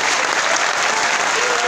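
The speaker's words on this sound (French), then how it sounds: "je vous demande d'applaudir profondément" Loud, sustained applause from a conference audience, a thick wash of clapping hands that stays strong and unbroken from start to finish.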